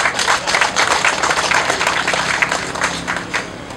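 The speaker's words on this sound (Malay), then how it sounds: "Berikan satu tepukan kepada beliau." Applause for a village committee chairman at the opening of a hawker food court, a dense crowd clapping steadily and fairly close for a few seconds with no talk over it.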